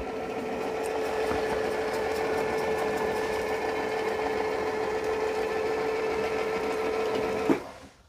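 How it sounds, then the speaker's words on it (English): iHome Nova S1 Pro robot vacuum docked and auto-emptying, a steady loud whirring motor drone with a constant hum that runs unchanged for several seconds before cutting off sharply. "Now it's going to back up to it and auto empty."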